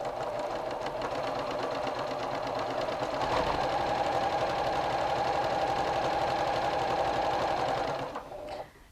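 Sewing machine stitching jelly roll quilt fabric strips at a quarter-inch seam, a steady fast mechanical whirr with rapid needle chatter running continuously for about eight seconds, then slowing and stopping.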